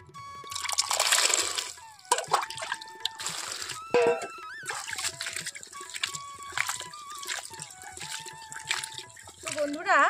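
Cut taro flowers being washed by hand in a container of water, with splashing, trickling and dripping sounds, a loud swish near the start and steady sloshing afterward, heard close up alongside a few faint voice sounds.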